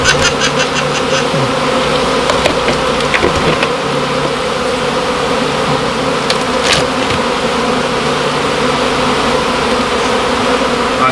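Honey bees swarming around two beehives troubled by ants and termites, a dense, loud, continuous buzz from many insects close by, with a few sharp ticks and clicks scattered through it.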